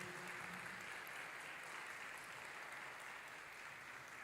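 A church congregation applauds to welcome a visiting pastor at a family worship service, the clapping a steady, dense wash that fills the whole moment without pause or speech.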